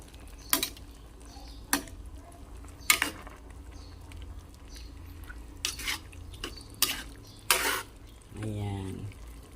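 Chopsuey with bouillon cubes being stirred in a pot, with several sharp utensil clinks and scrapes spaced through the clip over faint background noise, ending in a brief low rumble.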